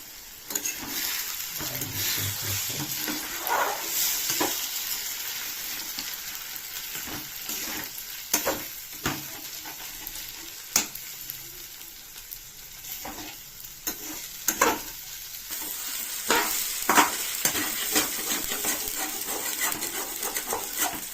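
Egg with ponnaganti greens frying in a pan, a continuous close sizzle broken by frequent stirring scrapes and spatula knocks, with no talking.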